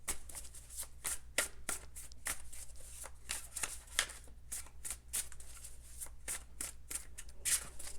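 Tarot cards are shuffled steadily and close to the listener, giving a rapid, repeated riffle of crisp slaps and flutters that runs throughout under a low constant hum, with no talking.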